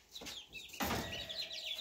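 Backyard chickens in cold weather cluck and chirp nearby, a few short calls followed by a louder squawk and busy chatter in the garden.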